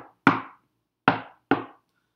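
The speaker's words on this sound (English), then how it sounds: "A light knock." Three light knocks on a door, close and crisp, one knock followed after a pause by two more in quick succession, isolated against silence.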